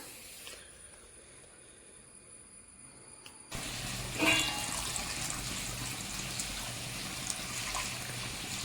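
Heated water poured from a vessel into a pot of rice, a sudden gushing splash that starts partway through and then continues as a steady close hiss, with no talk.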